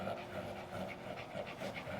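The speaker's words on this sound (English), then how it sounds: "Because right now with all the stress and everything, how heavy he's breathing." A stressed dog pants heavily and quickly, a close, rhythmic run of short breathy huffs heard alone at low volume.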